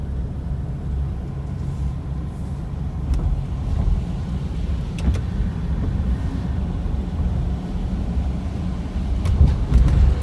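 A car drives over an old bridge, giving a steady low engine and road rumble with wind buffeting and a few faint clicks and rattles. No one speaks.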